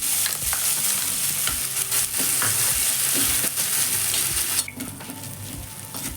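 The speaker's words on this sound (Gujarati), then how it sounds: "ઘી છે એની અંદર જ આપણે આદુની જે પેસ્ટ છે એને પણ સાંકળી લઈશું" Ginger paste fries in hot ghee with a bright, continuous sizzle while a utensil stirs and scrapes the pan in irregular strokes, close up, the sizzle easing slightly toward the end.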